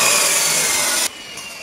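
Steel rods cut at a house construction site during slab work, a loud, harsh, continuous grinding screech close by that stops abruptly after about a second, leaving a quieter hiss.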